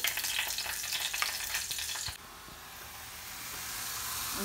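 Meat frying with garlic in an old pan, a steady crackling sizzle that is busy and bright at first, then drops to a quieter, smoother hiss that slowly swells, with no one speaking.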